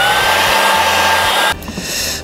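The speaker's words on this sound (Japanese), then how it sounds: "タオルか靴下にチェーンを入れてドライヤーで一気に乾燥させます" A handheld hair dryer blasts air onto a road-bike chain wrapped in a towel or sock after ultrasonic cleaning, a loud, steady whooshing whine that abruptly drops to a lower, softer airflow about two-thirds of the way through.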